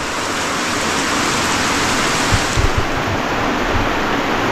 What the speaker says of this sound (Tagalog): Pero ang ulan, yan oh.